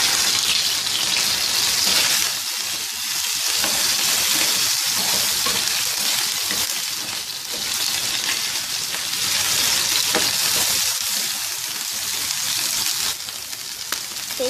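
Lamb liver frying with ginger garlic paste on a tawa, a loud, continuous sizzle with occasional stirring scrapes, dipping briefly now and then, no talking.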